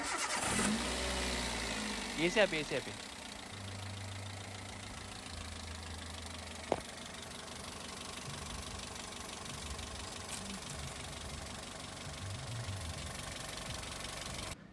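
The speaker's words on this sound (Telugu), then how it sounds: "ఇంజిన్ కండిషన్ కూడా ఒకసారి మీకు స్టార్ట్ చేసి ఏ విధంగా ఉందన్నది ఇప్పుడు చూపిస్తాను" A used car's engine cranks and starts with a rough rising whine, then settles into a steady idle that runs on for several seconds, with a person speaking briefly near the start.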